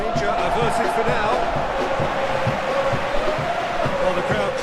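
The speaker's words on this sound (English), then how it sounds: "Well, the crowd clearly like what they just saw." A stadium crowd in a PES football video game roars in a continuous dense wash of cheering, loud and steady, with commentary speaking over it.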